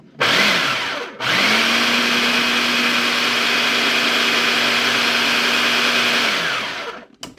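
An electric hand mixer whirs steadily while mixing mashed buttercup squash in a bowl, starting with a short burst, pausing briefly, then running loud and close for about six seconds before winding down.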